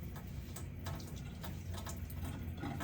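Tap water running into a sink while dentures are cleaned, a soft steady splashing stream heard close and quiet, alone without talk.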